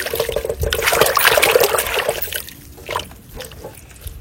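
Crabs are swished and rinsed by hand in a bucket of water, giving close, irregular sloshing and splashing that is louder at first, then thins into scattered splashes and trickles.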